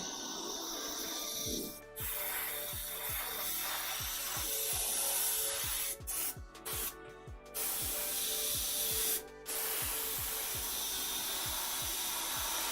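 Airbrush spraying green paint onto a cosplay armor corset, a steady close hiss running through most of the stretch, briefly cut off a few times, with rhythmic low thumps underneath.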